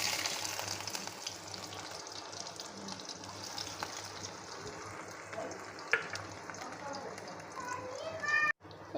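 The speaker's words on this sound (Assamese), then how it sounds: "এয়া মই পিঁয়াজখিনি ফ্ৰাই কৰি লৈছোঁ" Onions fry in hot oil in a wok at medium flame for egg fried rice, a soft steady sizzle running throughout with a few faint clinks and brief background voices.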